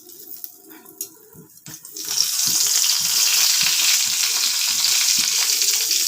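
Two bay leaves drop into hot oil as tempering for soya afghani, and after a few light clatters a loud, steady sizzle bursts up and holds, close and constant.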